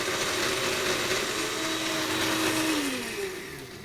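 A kitchen blender whirs loudly as it purees strawberries with raw honey and Grand Marnier, a steady motor roar whose pitch gradually sinks as the mixture thickens, then eases off at the end.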